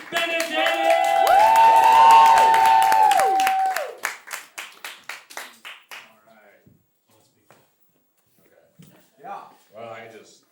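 A comedy club crowd claps and cheers as a comedian comes on stage; a loud burst with a music sting gives way to scattered, thinning claps that fade out, followed by someone speaking.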